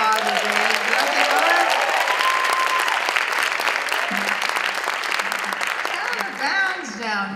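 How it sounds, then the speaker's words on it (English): Enthusiastic audience applause at a gala after a gospel choir performance, with steady clapping, scattered cheers and whistles, and a voice briefly heard over the crowd near the end. "Big old round of applause again."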